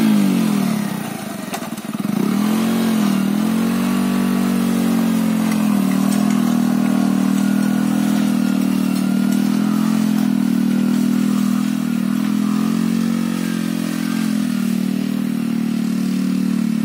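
Motorcycle-based bike weeder engine running in a field, with a loud, steady close-up chugging drone that dips briefly and then revs back up, and no talk over it.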